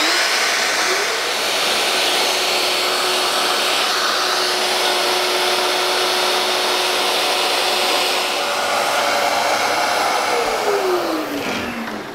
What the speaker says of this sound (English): so I now need to set up my router and line up to that center point.